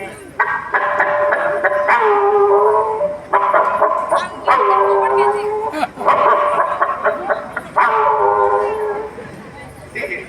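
A voice imitates a dog howling during a Yakshagana comic stage performance, drawing out several long, wavering cries with short breaks between them, loud and close.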